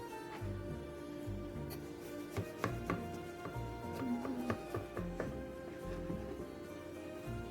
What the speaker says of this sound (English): I'll cut the thin slices.